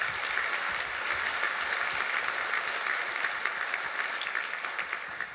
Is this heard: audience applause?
yes